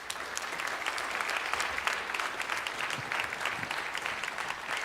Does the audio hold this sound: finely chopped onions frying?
no